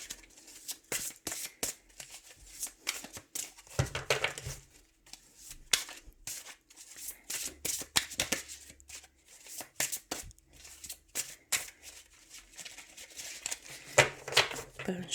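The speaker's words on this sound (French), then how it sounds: "Je vais mélanger, je vais couper" Guardian angel tarot cards are shuffled and cut by hand in a run of close, crisp riffling and flicking bursts with brief pauses between, under occasional soft talk.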